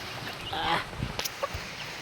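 A young bantam rooster crows in a brief, faint burst among other poultry calls, heard up close but quietly against low farmyard background noise.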